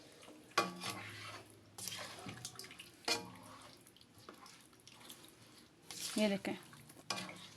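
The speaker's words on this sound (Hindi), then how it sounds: "अच्छे से हम मिक्स कर रहे हैं इसको।" Beef korma ingredients and raw meat stirred together in a pot with the flame off, giving wet squelching and scraping strokes with an occasional clunk against the metal. A voice talks briefly over it.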